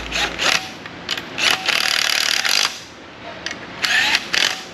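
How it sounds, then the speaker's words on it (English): Impact gun snugging bolts on a Mercury 200hp outboard lower unit, several short bursts of rattling hammering with brief pauses between them, close and loud, with no talking. "I feel pretty comfortable with this gun, so I don't mind using it to snug them up"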